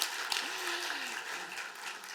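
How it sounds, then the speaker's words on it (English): Guests at a journalism awards dinner break into applause, a soft, dense patter of many hands heard at a distance, with a brief sliding tone near the start. "You can applaud."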